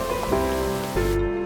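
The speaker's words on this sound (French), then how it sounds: "On dirait que cette pluie ne s'arrêtera jamais." Steady rain falls in a continuous broad hiss beneath soft sustained music, with no voices.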